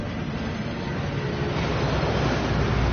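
The Thief's Downfall waterfall in Hogwarts Legacy roars as a steady, dense rush of falling water, loud and continuous throughout with no speech.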